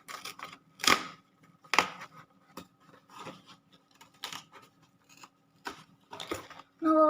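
Cardboard for a homemade periscope is cut with sharp, scattered snips and crunches. The cuts come at an irregular pace amid quiet handling noise, and a brief tonal sound comes at the very end.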